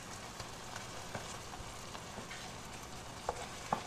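Eggs with tomatoes and peppers fry in a pan for keto spicy eggs, giving a steady low sizzle with soft scraping stirs and a couple of sharper clicks near the end.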